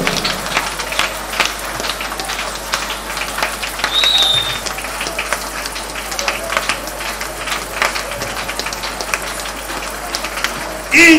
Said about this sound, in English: Clap your hands and pray.